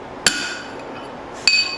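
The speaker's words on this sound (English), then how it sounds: "So when I hit it with a hammer, I'm trying not to hit the other side." A hammer strikes hot steel over a drift while a cross peen hammer is being forged, two sharp ringing metallic blows about a second apart, close and loud with bright decaying ring.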